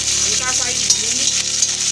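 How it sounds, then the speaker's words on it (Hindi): Chopped green chillies sizzle and fry with browned garlic in a pan for a mustard-greens bhujiya, a loud, constant crackling hiss with a little stirring. "अब इसमें ये मैंने चॉप करके हरी मिर्च रखनी है"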